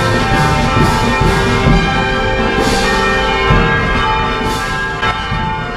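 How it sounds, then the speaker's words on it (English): Church bells at Manila Cathedral ring continuously and loudly, overlapping metallic peals with rhythmic strikes layered over a busy outdoor crowd murmur. "Bells are going crazy."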